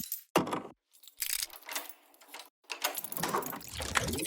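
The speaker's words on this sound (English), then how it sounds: "A bunch of clicks, switches, keys, you name it, we got it." Close, crisp foley clicks and switch snaps mixed with jangling keys, layered in an electronic music track, arriving in quick irregular bursts separated by short silences.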